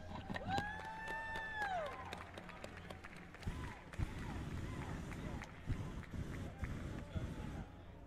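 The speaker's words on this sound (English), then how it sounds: "Give them, please, a big round of applause." Outdoor crowd at a hot-air balloon glow breaks into scattered applause and cheering for the balloon aeronauts, moderately distant, while a voice speaks over it.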